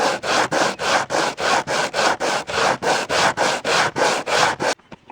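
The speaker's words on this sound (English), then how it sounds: "take a full piece of sandpaper, put it on the bench, and grind it down until it's right" A stone piece ground back and forth on a full sheet of sandpaper laid on a workbench, a loud, steady rhythm of about fourteen rasping strokes that ends abruptly, with no voices.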